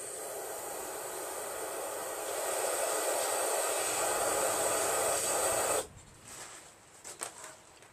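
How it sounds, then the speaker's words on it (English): Air hisses steadily and fairly loudly into the spark plug hole of a Briggs & Stratton 17.5 HP engine, then cuts off abruptly, followed by faint clicks and handling noise. "I'm going to blow some in my spark plug hole."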